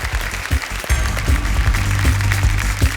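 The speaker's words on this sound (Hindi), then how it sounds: "जोरदार तालियों के साथ मैं चाहता हूँ कि इनका स्वागत किया जाए।" Studio audience on the KBC game show applauds to welcome the new contestants, a steady, full burst of clapping carried over a low musical backing.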